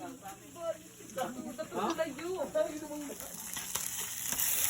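Fried food burns in a pan during a family summer vacation in Bansalan, a hissing sizzle that swells toward the end, heard under people talking.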